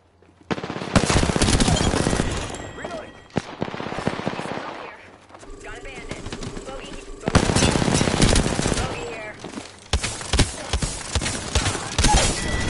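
Loud, close gunfire in Apex Legends, repeated rapid bursts and single shotgun-like blasts in several clusters across the span, with players talking between and over the shots.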